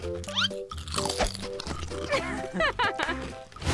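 A teenager chews on a TV cable, giving crunchy, rubbery biting and gnawing sounds mixed with grunting, cartoonish pig-like squeals and excited voices talking throughout.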